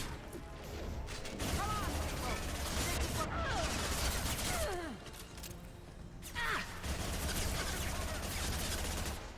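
Rapid gunfire and impacts from the video game Mass Effect 2 crackle continuously at a loud level, with a busy layer of in-game sound and brief dips in intensity.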